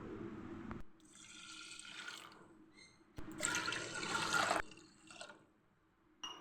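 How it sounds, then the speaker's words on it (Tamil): Palm sap is poured onto rice in a pressure cooker, bursts of splashing liquid filling the pot in two main pours with short trickles and drips between, close and clear with no talk. "ஒரு டம்ளர் அரிசிக்கு மூணு டம்ளர் பதநீரை ஊற்றிடலாம்"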